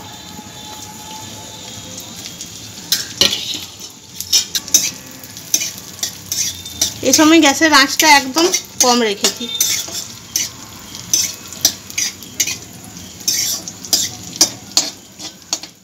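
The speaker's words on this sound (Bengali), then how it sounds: "কিছু কিশমিশ নিয়েছি, এগুলোকে আমি ভেজে নেব।" Raisins frying in desi ghee in a wok over a low gas flame for Gobindobhog rice payesh, with a soft sizzle, scattered spoon-stirring clinks and a brief bubbling burst midway, while a voice speaks.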